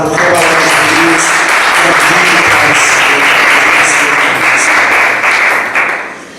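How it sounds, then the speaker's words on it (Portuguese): A church congregation breaks into loud, sustained applause that fills the room for several seconds before tapering off at the end. "Eu convido a aplaudir essa palavra"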